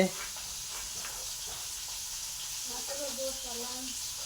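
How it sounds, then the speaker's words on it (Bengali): Fish frying in a pan in a home kitchen, a steady close hiss and sizzle of oil running throughout at moderate volume, with faint voices murmuring underneath. "দেখো মাছ ভাজছে"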